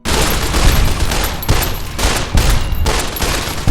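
Several loud pistol shots from a weathered 10mm pistol in Fallout: New Vegas fire in quick succession, each close and punchy, about five or six in a steady, uneven rhythm.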